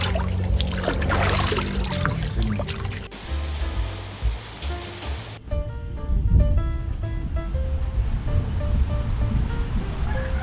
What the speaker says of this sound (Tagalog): malakas ang ulan dito sa amin